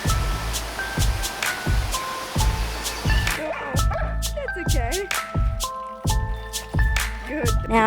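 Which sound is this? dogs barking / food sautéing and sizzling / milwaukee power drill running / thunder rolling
dogs barking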